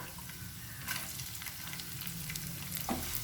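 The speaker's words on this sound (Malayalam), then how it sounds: "ഇനി ഇതിലേക്ക് ഒരു ചെറിയ സവാള ഇങ്ങനെ ചെറുതായിട്ട് കട്ട് ചെയ്തത് അതിട്ട് കൊടുക്കാം" Finely chopped small onion hitting a hot pan with chillies, a steady moderate sizzle with bursts of crackle as pieces land and are stirred.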